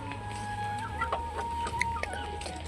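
A chicken that has wandered into a pigeon loft clucks in short, close bursts over a steady low hum.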